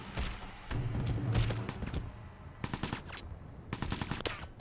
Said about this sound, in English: I hear more gunshot though.